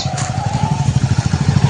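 Several motorbikes rev up and settle into a steady, rhythmic low chugging close by, like engines idling on a farm track, with a faint crackle over the pulsing beat.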